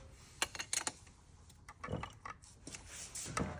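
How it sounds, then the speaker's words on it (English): A wrench loosens a cylinder head bolt on a KTM 250XC two-stroke engine, giving a few sharp ratcheting clicks and taps, close and fairly quiet, with no talk. "This last head bolt, cylinder bolt coming loose."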